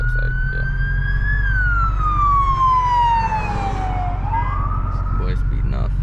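A police car siren wails loudly nearby, sweeping up and down in a long rising and falling tone over steady road and engine rumble, with no one speaking.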